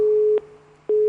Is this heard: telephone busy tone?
yes